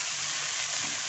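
Greens dropped into hot oil with dried red chili, green chili, ginger and black cumin, sizzling loudly in a steady, dense hiss that fills the moment without a break.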